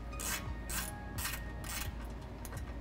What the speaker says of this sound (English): Get this bolt pulled out.